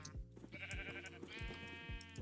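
A Minecraft sheep in a pen bleats in two drawn-out, wavering calls over busy game sounds with repeated low thumps and clicks, moderately close.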